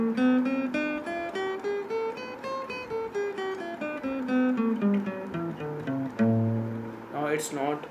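A single guitar plays a pentatonic scale with extra added notes, picked one note at a time in a steady run up and down, with a brief scrape of string noise right at the end.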